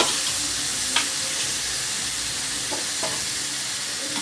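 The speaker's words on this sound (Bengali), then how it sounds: "চার পিস আলু আর চিকেনটা দিয়ে দিলাম" Four pieces of potato and chicken sizzle in a hot pan, a loud continuous hiss with a few light knocks and scrapes.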